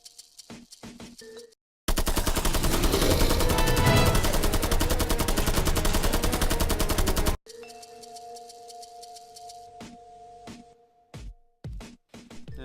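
Video game gunfire from an M4 and a Vector rifle: a sustained, loud automatic burst of rapid shots runs for several seconds, framed by quieter game sounds and brief clicks before and after.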